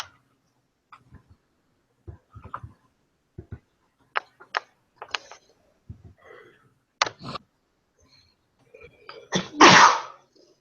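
One loud, close sneeze breaks out near the end, after scattered soft clicks and breaths at a computer during a spreadsheet lesson.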